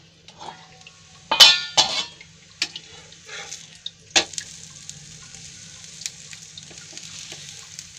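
Dhapate flatbread roasts in oil on a covered pan with a soft, steady sizzle, broken early on by a few sharp clinks and scrapes.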